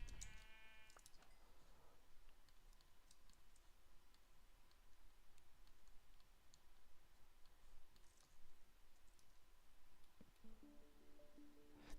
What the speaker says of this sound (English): Sound like a sheep.